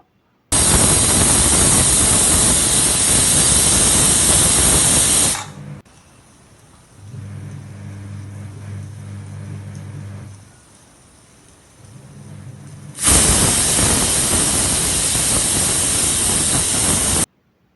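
A pressure cooker holding chicken with a spoonful of water lets out two long, loud hissing steam whistles, separated by several seconds of quiet bubbling and simmering.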